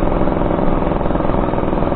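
A Suzuki RC100 motorcycle engine runs steadily and close up, a continuous mid-pitched drone with no distinct starter whir.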